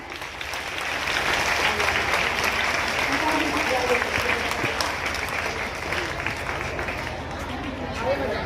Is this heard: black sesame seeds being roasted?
no